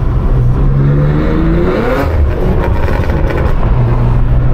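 A BMW M2 G87 with a straight-piped exhaust revs loudly and close by, its engine note rising and falling through sustained raw pulls with no talking.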